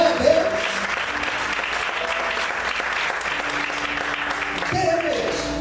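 A church congregation applauds in praise during a Portuguese-language sermon, a sustained dense round of clapping lasting several seconds, with voices and cheers mixed in and a keyboard tone swelling near the end.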